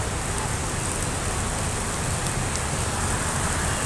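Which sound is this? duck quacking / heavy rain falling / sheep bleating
heavy rain falling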